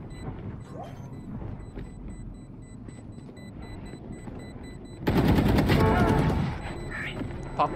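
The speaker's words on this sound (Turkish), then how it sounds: "Patladı işte bomba" Spike bomb detonating in a tactical shooter video game, heard as a sudden loud, dense burst of blast noise that cuts in midway through quieter gameplay sounds and holds for about a second and a half before easing off.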